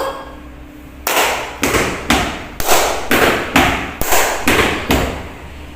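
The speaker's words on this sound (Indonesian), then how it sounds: "memberikan contoh pola ketukan irama dalam bentuk tepuk tangan dan hentak kaki" A rhythm pattern of hand claps and foot stamps is demonstrated for a second-grade music lesson. After a second of quiet, about ten sharp, loud, close beats follow at a steady, even pulse with no talking.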